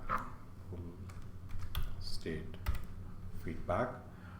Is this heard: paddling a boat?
no